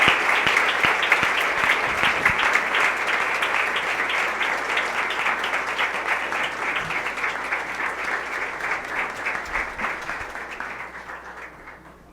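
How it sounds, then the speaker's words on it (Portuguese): A church congregation applauds at a pastor's ordination service, dense sustained clapping from a large crowd that gradually fades toward the end. "Podem levantar, a gente pode aplaudir"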